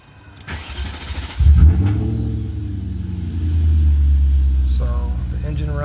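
A 1998 BMW E39 540i engine with an alternator fault cranks briefly, catches, and settles into a steady, close idle rumble with a slight rise in revs.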